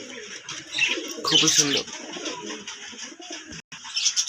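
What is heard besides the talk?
Madras pigeons cooing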